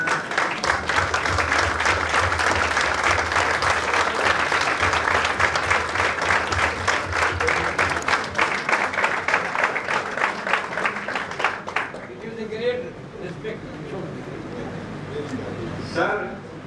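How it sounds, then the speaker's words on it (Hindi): Sustained applause from a lecture audience on their feet in Patna, dense clapping at full strength for about twelve seconds, then thinning out as a voice begins speaking over the fading claps. "खड़े होते 2 मिनट का ताली बजाएं"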